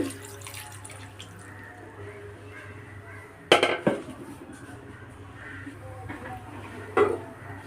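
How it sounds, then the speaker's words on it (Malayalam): Second coconut milk being poured into a pressure cooker while making a tapioca and coconut milk dish: a soft, steady liquid wash over a low kitchen hum, with a couple of sharp metallic clanks from the cookware. "രണ്ടാമത്തെ പാലാണ് കേട്ടോ ഞാൻ ഒഴിച്ചു കൊടുക്കുന്നത്"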